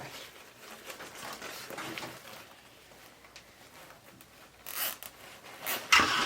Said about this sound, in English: Wrap my zip tie.